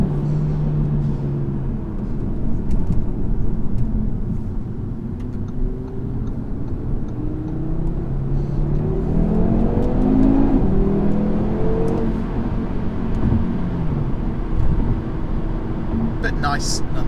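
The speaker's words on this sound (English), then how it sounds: "It's just a very smooth 5-cylinder sound." A smooth five-cylinder engine in a 2019 Audi RS3 accelerates steadily, its pitch climbing through the gears as a continuous hum under a passing voice.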